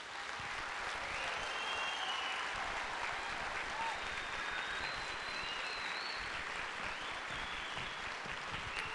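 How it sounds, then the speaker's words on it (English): Sustained applause from a concert audience after a school band and choir show, dense and even clapping for nine seconds, with faint voices and a few whoops mixed in. "Let's give one more round of applause for all the performers tonight."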